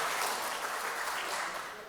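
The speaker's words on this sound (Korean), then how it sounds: "박수 한번 보내주십시오." A church congregation claps in a short burst of dense, even applause that fills the room briefly and fades slightly at the end.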